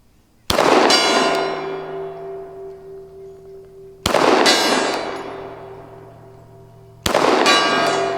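Pistol shots ringing off a distant steel gong, three sharp metallic clangs a few seconds apart, each followed by a long humming decay, with no talking.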